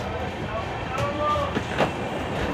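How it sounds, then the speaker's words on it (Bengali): The Kurla Express, running its first LHB service, departs Uluberia station with a low, steady rolling rumble of rail cars and faint rail squeals, heard at moderate distance under background noise. "উলুবেড়িয়া থেকে ডিপার্ট করে গেল কুরলা।"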